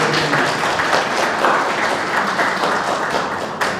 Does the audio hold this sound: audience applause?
yes